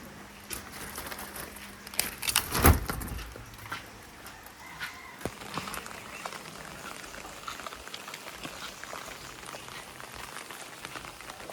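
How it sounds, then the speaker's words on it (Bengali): Rain falling outside beyond a verandah, a steady dense patter on surfaces heard at moderate distance, with a loud clattering knock near the start. "অনেক দিন পরে আবার বৃষ্টি নামলো"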